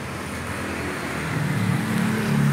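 A 2013 KIA Sportage 2.0L engine runs steadily just after starting, a continuous low hum that grows slightly louder toward the end, heard alone without talk.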